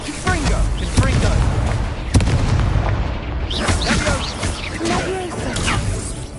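Repeated Confringo fire spell blasts in a Harry Potter video game, several booming bursts layered over continuous action noise and game effects, loud and busy throughout.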